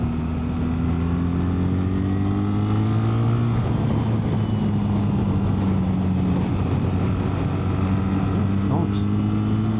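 BMW R1300GS motorcycle engine under way, a steady humming drone with a clear rising and falling pitch, heard from the rider's position, with wind rush and someone talking over it.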